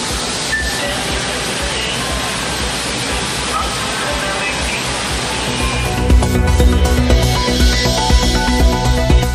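Water pours down at Courtallam falls, a dense, constant roaring rush that stays loud throughout, with other sound layering in toward the end.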